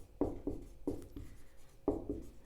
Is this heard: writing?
yes